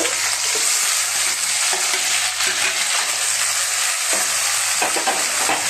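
Tomatoes and chopped coriander fry in a pan with a steady, close sizzle, broken by a few scraping stirs and spoon knocks.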